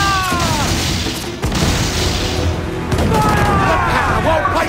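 Pirate ship cannons fire in Assassin's Creed Black Flag during sea combat with the Jackdaw: loud booming blasts and crashes over continuous roaring noise, with game sounds and voices mixed in.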